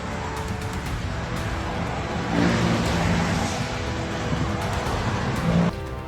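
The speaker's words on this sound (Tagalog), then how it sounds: "Ang modern jeep naman ay counterflow kahit solid white line basta lang mauna siya at mapabilis ang kanyang biyahe" A modern jeepney drives counterflow in a city bus lane amid steady, close traffic noise, its engine surging and revving above the road hum, with other vehicles passing.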